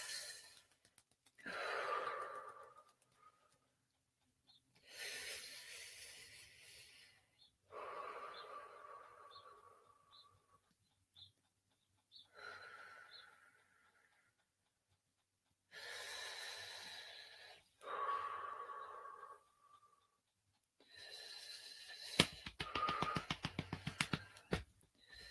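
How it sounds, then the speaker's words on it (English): Slow, deep breathing during an EFT tapping exercise, long audible inhales and exhales in repeated cycles with pauses between, close and intimate, with light tapping near the end. "So it's just tapping and breathing."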